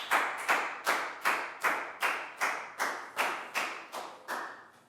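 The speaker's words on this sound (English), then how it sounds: "a big round of applause for Nadia" A Year 4 maths class gives a pupil about eleven loud, evenly spaced claps in a steady rhythm, close and clear with no talking.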